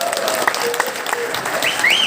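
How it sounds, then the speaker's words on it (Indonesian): A crowd at an Indonesian political youth organization event claps in brief, steady applause, close and fairly loud, with a few voices mixed in. "Bro Imam Fauzan, dan tepuk tangannya kurang meriah ya."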